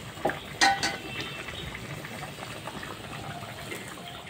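Katla fish simmering in curry in a covered pot, with a couple of metallic lid clinks up front, then a quiet steady bubbling hiss.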